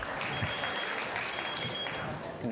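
Sustained theater audience applause at a live science talk, a dense wash of clapping hands that holds steady throughout, with a faint high electronic tone running beneath it.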